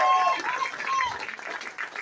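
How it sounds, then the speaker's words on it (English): Crowd applause at an outdoor Christian worship service during a Hollister Independence Day motorcycle rally, honoring biker ministries; steady clapping with some cheering and talk mixed in. "give them a round of applause"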